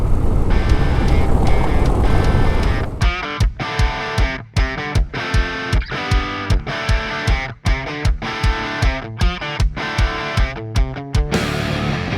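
A new Harley-Davidson motorcycle engine while riding, starting with a steady roar and then revving in rapid, rhythmic pulsing bursts with short gaps, loud and close.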